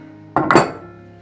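A baking dish is picked up in a home kitchen, giving a single close clink and scrape of the metal or glass form before quiet returns.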